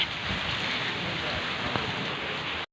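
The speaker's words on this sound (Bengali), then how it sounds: "প্রচুর বৃষ্টি পড়তেছে।" Heavy rain falls in a loud, steady rush close by, a continuous hiss that cuts off abruptly near the end.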